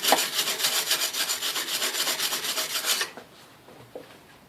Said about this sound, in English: Give her a little wire brush there.